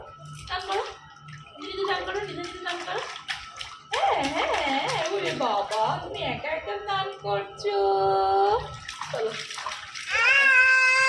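A baby is bathed with splashing water, likely in a tub, while an adult keeps talking and the baby makes vocal sounds, all close and fairly quiet.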